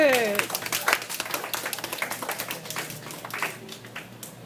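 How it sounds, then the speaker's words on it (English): Applause from a school audience at the end of a class play, a dense crackle of many hands clapping steadily at moderate distance, with voices rising over it at the start. "Can we give them another round of applause?"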